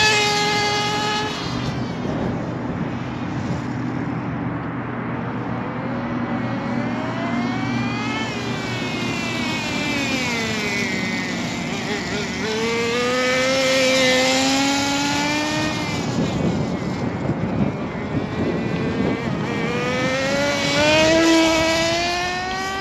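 A nitro-powered HPI RS4 RC car engine buzzes loudly and close, revving up and down in rising and falling whines over a raspy idle, settling back quickly between blips.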